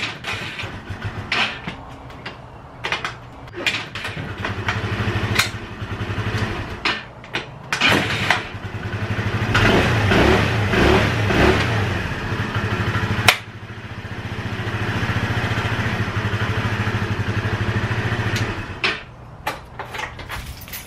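A carbureted scooter is kick started, with clunks and rattles from the kick lever before the engine catches and runs with rising throttle revs, then idles steadily close by.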